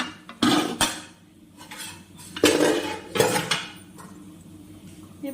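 A lid lifted off a pot of Gobindobhog rice pulao on the stove, with several loud close metallic clanks and scrapes of cookware spaced irregularly and no one speaking.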